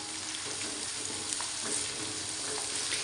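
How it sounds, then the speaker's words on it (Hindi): Onion, tomato, garlic and green chillies frying in a pan: a dense, continuous sizzle, steady and close, with faint stirring scrapes and no talk. "अब हम इसको इसके साथ बहुत अच्छे से भून लेंगे।"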